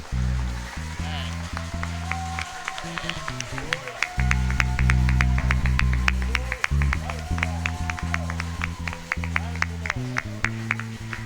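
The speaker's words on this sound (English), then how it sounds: "I say clap your hand unto the Lord if Jesus is your own." A church congregation claps hands during a Wednesday service, with steady rhythmic clapping throughout over loud music with deep bass and voices.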